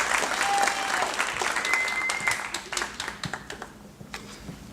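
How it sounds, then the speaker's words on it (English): Full crowd applause for graduates at a Wyotech graduation ceremony in Daytona Beach, loud and dense at first, then thinning into scattered individual claps as it dies down. "So one more round of applause to the graduates, and thanks to the instructors"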